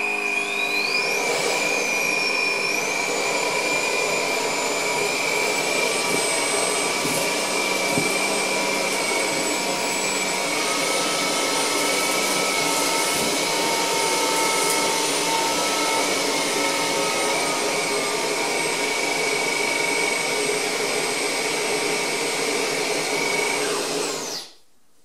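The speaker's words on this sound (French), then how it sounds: "Je vais me mettre en vitesse automatique et voir si l'aspirateur réagit à la quantité de poussière." A Rockstar 900 Ultimate Ergowet cordless vacuum cleaner runs in automatic mode, a loud, steady high-pitched motor whine with a rising pitch at start-up and slight speed shifts, sustained alone for about 24 seconds before cutting off.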